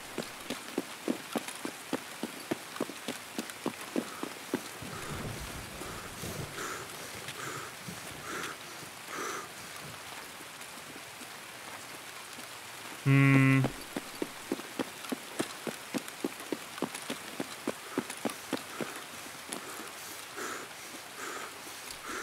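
Steady patter of rain in Escape From Tarkov's Streets of Tarkov map, a soft continuous hiss under rhythmic footsteps and occasional game sounds, with a brief louder mechanical burst midway.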